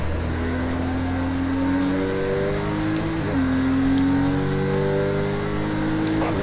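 Racing car engine in Project Cars 2, accelerating hard with traction control on: a steady, loud engine note climbs in pitch through several gear changes, with no talk over it.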